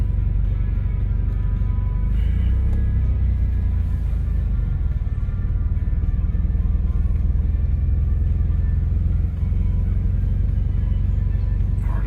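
A Mazda FD3S RX7 rotary engine idles in a steady, loud, low rumble with the intercooler fan running, a constant droning hum with no talking.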